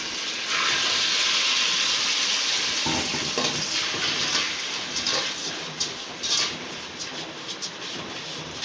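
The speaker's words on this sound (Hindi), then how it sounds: "थोड़ा सा पानी, ये मैं सारा नहीं डालूंगी, हाफ कप है, थोड़ा डालूंगी।" Half a cup of water poured into a hot pan of zarda sweet rice sets off a loud, steady sizzle and hiss that slowly settles, with no voices.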